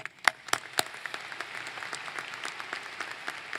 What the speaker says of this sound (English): Please join me in a round of applause for our regents